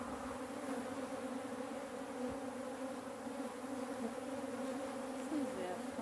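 A steady, dense drone of African honey bees buzzing at an opened hive during a post-winter inspection, continuous and fairly soft, with a faint low hum of many wings and no clear talk.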